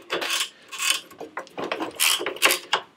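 Metallic clinks and ratcheting rattles from wrench work loosening screws on a Toro eFlex reel mower during disassembly, a busy run of short close taps and scrapes with no talking.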